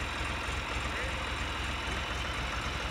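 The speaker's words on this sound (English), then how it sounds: "And here it is, our very own tractor." A tractor engine idles steadily after a delivery unload, a continuous low rumbling drone with no breaks, fairly loud and close, with no voices over it.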